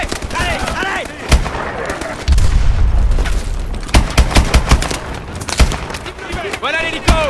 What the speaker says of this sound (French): On ne peut pas s'approcher de ces explosions.